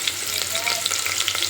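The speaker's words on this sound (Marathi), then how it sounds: "आणि त्याच्यासोबतच आपण टाकणार आहोत कांदे. तेल चांगलं गरम झालेलं आहे आपलं," Sliced onions fry in hot oil with bay leaf in a pan for mutton curry, a dense close sizzle with light stirring crackles, steady and without talk.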